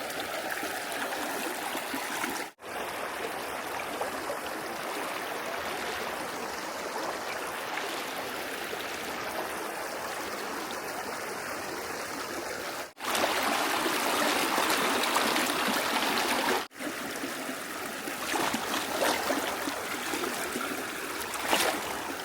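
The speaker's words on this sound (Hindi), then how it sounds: "तो वही ये थी नदी, कनई नदी, जिसको हमने अभी पार किया।" Cold water of the Kanai river flows and rushes steadily close by, a continuous broadband wash with brief dropouts and no voices, heard on a walking Narmada pilgrimage route.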